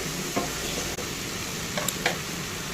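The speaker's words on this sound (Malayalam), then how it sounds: "നമുക്ക് തക്കാളി കൊടുക്കുന്നു." Tomatoes going into a hot frying pan with sliced onions, a steady close sizzle of frying with a few soft stirring scrapes, no voices.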